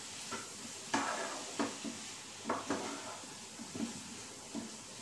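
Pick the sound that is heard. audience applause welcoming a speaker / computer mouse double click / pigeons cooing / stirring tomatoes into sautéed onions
stirring tomatoes into sautéed onions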